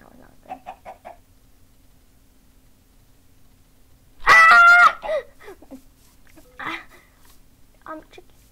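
Minecraft chicken clucks in a game session: a few soft, short clucks near the start, then a sharp, loud bird squawk, followed by scattered softer clucks and calls.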